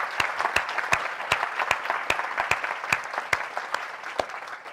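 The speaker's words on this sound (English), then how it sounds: "Let's give him a round of applause." A modest crowd at a creative-technology conference claps for a named successor, sparse applause where a few loud nearby claps ring out in a regular rhythm over a lighter scattering of hands.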